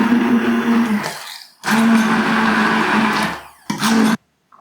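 A blender whizzes chicken liver paté with thyme and cream in three loud bursts, the first and second long and the last short, each stopping abruptly into near silence.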